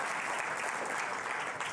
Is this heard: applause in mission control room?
yes